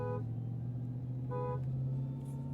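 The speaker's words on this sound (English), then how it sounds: "horn. What are they gonna hear?" Dodge Demon 170 horn sounding in two short, modest beeps, a brief toot at the start and another around the middle, heard over a steady low engine hum inside the car.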